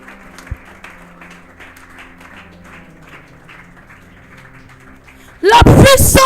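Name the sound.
congregation cheering and applauding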